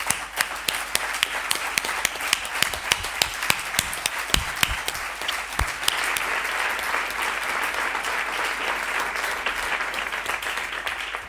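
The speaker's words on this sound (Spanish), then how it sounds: "creo que Maricruz se tiene que llevar hoy un aplauso de todos y de todas nosotras" Sustained audience applause at a Spanish-language equality-plan talk, a broad dense wash of many hands with louder individual claps standing out near the start, steady and fairly loud throughout with no talk over it.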